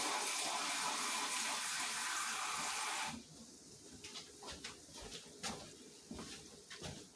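Water from a salsa container gushes steadily into a pot of simmering Moroccan tagine-style ground beef for about three seconds, then stops, leaving quieter bubbling and stirring sounds.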